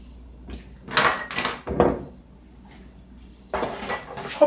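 A baking pan handled in a home kitchen while making blueberry cobbler, with a few sharp metallic clanks and scrapes in separate bursts, close by and fairly loud, with quiet pauses between them.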